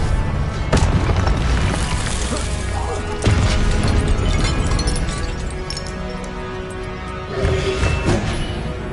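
Confringo blasting spells detonate in Hogwarts Legacy, loud booming bursts with crashing debris at around the one, three and seven second marks, layered over a constant roar of combat effects and music.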